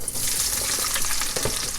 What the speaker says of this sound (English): I'll be adding my garden eggs into the pot slowly